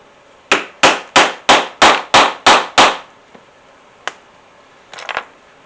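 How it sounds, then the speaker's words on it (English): Eight sharp, evenly spaced hammer strikes drive a 3/16 leather hole punch through a belt for a pair of chaps, loud and close, followed by a few lighter knocks and taps. "3/16 punch. We'll go ahead and pop these holes"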